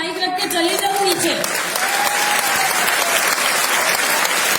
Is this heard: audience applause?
yes